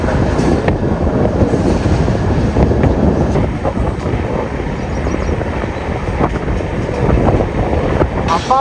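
Train running on tracks while making a sharp 90-degree turn near Araku, a loud continuous rumble and rattle heard close, with faint voices mixed in throughout.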